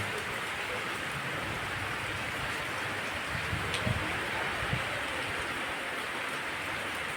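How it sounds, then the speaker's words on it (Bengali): Steady rain falls, a continuous dense hiss under trees with moving leaves. A few slightly louder drops or gusts come near the middle, and no one speaks. "বৃষ্টি হয় না হলে র্যান্ডাম বৃষ্টি হয়ে গেল, গাছের পাতাগুলো নড়ছে।"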